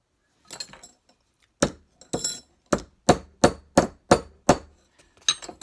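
A hammer taps repeatedly on wood, about a dozen sharp close knocks in a steady rhythm after a few quieter opening taps.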